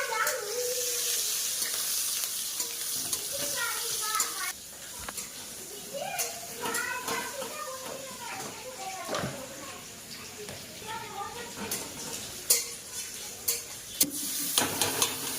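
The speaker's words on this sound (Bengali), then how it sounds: "ওই তেলেই পেঁয়াজগুলো ভালো করে ভেজে নেবো" Onions frying in oil for a fish and bottle gourd curry, a steady sizzle under frequent scraping and stirring clinks of a utensil against the pan, with a voice talking intermittently nearby.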